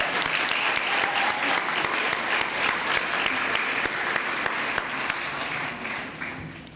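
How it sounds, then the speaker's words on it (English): Steady applause from a gala audience honoring award nominees and selection committee members, dense clapping at moderate level that carries on evenly before tapering slightly at the end. "A round of applause, please, for all the nominees and selection committee members."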